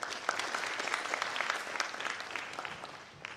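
Applause from a forum audience after a guest speaker, many hands clapping in a dense, steady patter that holds for a few seconds at moderate level before thinning slightly at the end.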